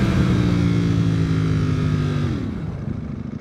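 A Ducati V4R motorcycle engine revs loud and close, holding a steady high-rpm roar with strong harmonics before the revs drop away near the end.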